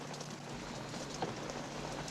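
Rain falls inside a car cabin, a steady soft hiss of drops pattering on surfaces, fairly faint and even throughout with no talking.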